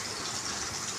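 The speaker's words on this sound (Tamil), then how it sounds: "ஒரு மிக்ஸி ஜாரில் போட்டு கொஞ்சமாக தண்ணி ஊற்றி" Water pours into a mixer grinder jar while a tamarind curry is being made, a short, steady gushing splash.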